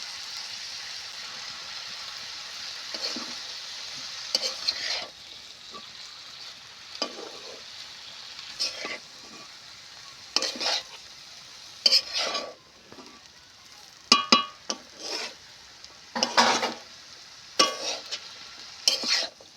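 Snake gourd with grated coconut frying in a pan: a low, gentle sizzle broken by repeated scraping stir strokes at irregular intervals, close and fairly quiet.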